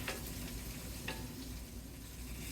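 Drained green beans frying in a pan on a small portable burner give a quiet, steady sizzle, with a couple of faint clicks from stirring and no talking.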